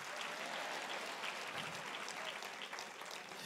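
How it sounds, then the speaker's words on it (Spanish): A church congregation applauds during a sermon, a continuous wash of many hands clapping, dense and even, a little distant and soft. "Si ese es el aplauso, por favor"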